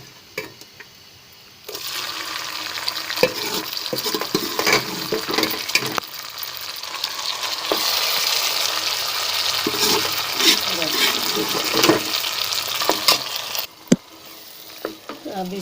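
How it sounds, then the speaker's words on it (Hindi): Cooked lentils pour into bitter gourd frying in a pan and get stirred, giving a steady close sizzle with scraping and stirring sounds throughout. "अब हम इसमें अपनी जो दाल हमने पकाई थी वो डालेंगे।"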